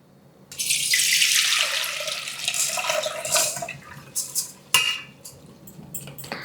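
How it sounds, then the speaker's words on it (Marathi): Water from soaked, fermented rice pours off into a strainer in a kitchen, a close, steady rush lasting a few seconds before giving way to scattered clinks and small splashes of wet utensils. "आता यातलं पाणी आपल्याला सगळं निथळून काढायचं."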